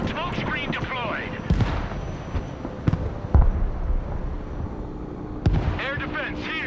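Weapons fire in the real-time strategy game Broken Arrow: a few sharp, loud blasts and thuds at irregular intervals over a bed of battle rumble, with short radio-style voice lines heard around them.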